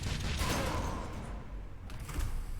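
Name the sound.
explosions in the video game Valfaris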